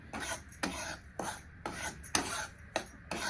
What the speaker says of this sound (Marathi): छान असा रवा आपल्याला भाजून घ्यायचा